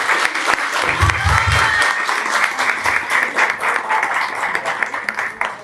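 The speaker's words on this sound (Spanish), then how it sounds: "Un aplauso, por favor." Warm, continuous applause from a lecture audience fills the space, steady clapping throughout with a few low thumps underneath.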